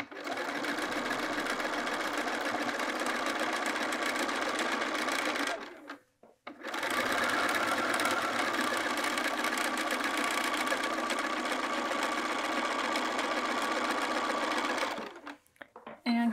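Sewing machine stitching a quilted jacket, a steady rapid motor whir and needle chatter running continuously, stopping briefly twice for short pauses before resuming, loud and close with no talk.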